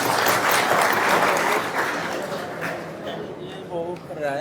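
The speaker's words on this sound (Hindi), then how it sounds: "इनके लिए एक ताली हो जाए।" Audience applause at a hospital and cancer centre team event, a loud burst of clapping that fades after about two seconds, with voices and speech rising underneath toward the end.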